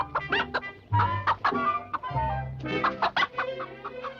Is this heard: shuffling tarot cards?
no